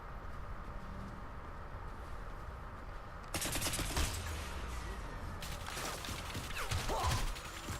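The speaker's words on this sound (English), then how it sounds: "Who's shooting at me now?" Enemy gunfire in the PS3 version of the video game Crysis, bursts of rapid shots breaking out after a quiet ambient stretch, fairly close and sharp, with scattered impacts and mechanical clatter.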